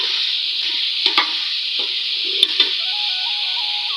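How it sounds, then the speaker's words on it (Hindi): Curry being stirred in a pot with a spoon over steady sizzling heat, a few soft scrapes and knocks against the metal breaking through the continuous frying hiss, close and alone. "मैं साथ साथ इसकी मिक्स करती जाऊँगी ताकि ऊपर नीचे वाली सारी चीज़ें है ना बराबर चली जाए"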